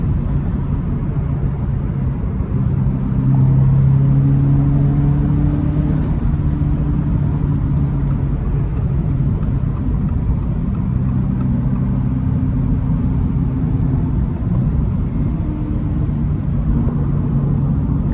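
Toyota GR86 sports car with a manual clutch on the road, its engine holding a steady mid-pitched drone with deep rumble and a slight rise in revs, close and continuous throughout.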